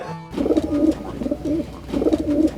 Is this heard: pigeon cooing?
yes